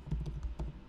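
Typing on a computer keyboard while building a form in Microsoft Access, a few close, soft key taps over about a second with no talking.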